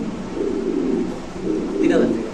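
A red Lahori pigeon gives soft, low, rolling coos close by, repeating through the moment while someone talks over it.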